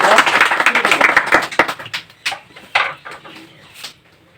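A group of students clapping loudly in a coaching class: a dense burst of applause that thins into scattered claps and fades out, with a brief murmur of voices.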